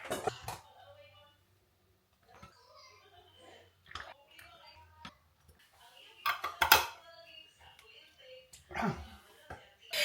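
The household's biggest cooking pot, used for homemade tomato sauce, clatters and knocks in scattered bursts while people talk quietly nearby.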